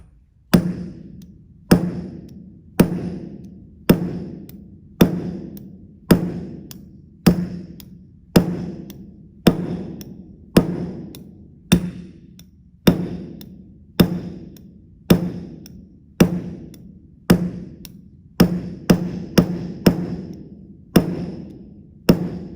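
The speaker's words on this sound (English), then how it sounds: "How about let's use a hammer." About two dozen sharp, hard strikes at a steady pace, each ringing briefly before fading, a hammer repeatedly hitting a hard ceramic piece up close.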